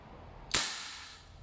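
A VFC Knights Armament SR-16 E3 MOD2 CQB airsoft gas blowback rifle fires once, a sharp, close crack with a quick gassy decay, against a quiet background.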